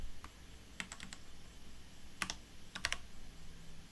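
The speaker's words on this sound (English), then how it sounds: "So I'm just going to go ahead and type these in here." Color codes typed on a computer keyboard, a few scattered, crisp key clicks in short irregular bursts, close and quiet, with no voices.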